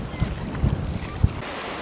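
Choppy waves slap against a kayak on the Missouri River in South Dakota on a windy day, a low churning wash with soft thumps and wind noise on the mic.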